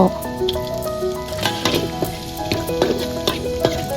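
Shallots stir-fry in hot oil with toasted chillies for a holy basil dish with river snails. A busy crackling sizzle comes with repeated spatula clatters and scrapes, and a steady tonal hum runs underneath.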